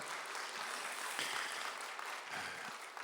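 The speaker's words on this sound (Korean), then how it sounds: "하나님 앞에 다시 한번 영광의 박수 올려드리면 좋겠습니다" A church congregation gathered for a prayer meeting applauds in a soft, steady patter of many hands that sounds distant and muffled.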